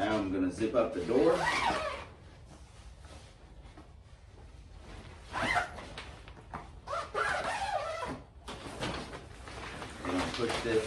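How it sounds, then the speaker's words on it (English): A pop-up hunting blind's fabric door being zipped shut, with rasping zipper pulls and fabric rustling in bursts, loud and close, separated by quieter pauses. "zip up the door."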